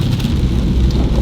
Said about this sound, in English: Now it's really rainy, and the temperature's dropped again